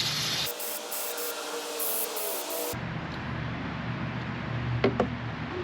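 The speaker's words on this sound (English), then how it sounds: "Let's clean it off. Got some brake parts cleaner." Brake parts cleaner hisses out of an aerosol can in a long spray, then cloth rubbing and scrubbing on a car part from a 2004 Volkswagen Touareg, with a couple of light knocks near the end.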